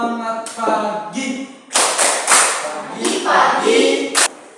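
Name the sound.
schoolchildren doing a rhythmic morning spirit clap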